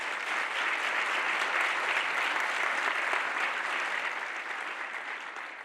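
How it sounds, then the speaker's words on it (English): Sustained round of applause from an audience at a public servants merit awards ceremony, a dense, steady wash of many hands clapping that holds evenly and tapers slightly at the end. "We have a round of applause for all of our awardees."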